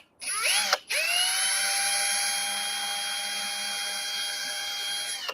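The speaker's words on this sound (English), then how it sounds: "this polyurethane doesn't take much to drill through it" A power drill bores through polyurethane during limousine wiring work, a loud steady whine that briefly dips near the start, then runs continuously close by for several seconds without talk.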